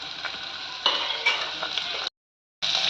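Onions sizzle steadily in a pan with chillies, cinnamon and cloves for a spicy chicken gravy, with a few stirring scrapes. The sizzle cuts out briefly near the end, then resumes.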